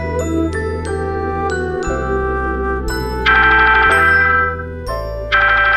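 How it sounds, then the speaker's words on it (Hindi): A bright, melodic phone ringtone chimes repeatedly over a steady low hum, its tinkling notes loud and close. "आयुष का फोन आया ह"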